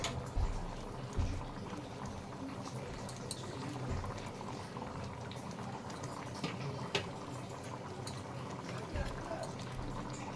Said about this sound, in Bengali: এটা আরো 5 মিনিট ফুটবে।